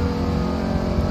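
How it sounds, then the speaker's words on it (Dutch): A Dodge Challenger's engine revs with the window open, giving a steady, loud low rumble that holds evenly through a short burst. "Gassen met deze wagen."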